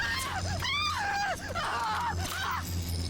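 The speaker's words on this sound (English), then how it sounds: "Keep screaming, baby." A BioShock game character lets out high, wavering screams and wails in short bursts over a low droning background hum, close and loud, with pitch sliding up and down.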